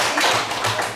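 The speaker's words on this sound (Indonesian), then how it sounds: "silakan kasih tepuk tangan." Students in a classroom clap their hands in a short burst of a few rapid claps, close and moderately loud, with faint voices underneath.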